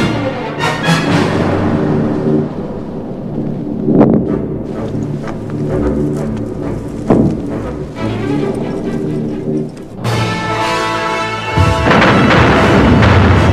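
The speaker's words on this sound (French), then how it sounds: "déclenche avec 600 canons et mortiers une contre-préparation d'artillerie qui va durer plusieurs heures" Heavy, deep booms from some 600 guns and mortars thud repeatedly through a constant rumbling roar, a sustained artillery barrage at the Battle of Kursk, with no talking.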